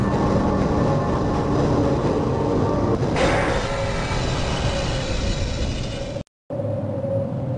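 Interior of a moving tram in the 1998 game Half-Life, a steady loud rumble of rails and motor with a shift in tone midway, a brief cut to silence near the end, then the rumble resumes.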